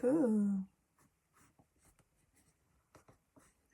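Soft scratchy strokes of writing on paper come in short, quiet bursts while budget figures are noted down, following a brief tonal sound at the very start, with no talking.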